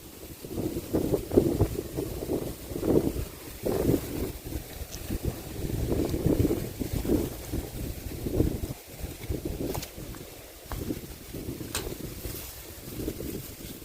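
Gusty wind across an open farm field blasts against the microphone, producing heavy rumbling bursts that rise and drop irregularly over a steady outdoor roar.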